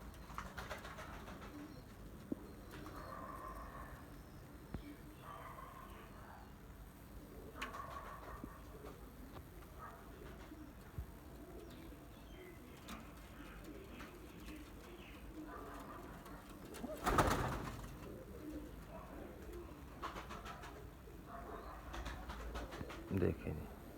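Abrak pigeons and their young coo softly in a loft, with repeated low, rhythmic coo phrases spread across the clip. Someone talks intermittently over the birds, and there are occasional faint rustles and knocks.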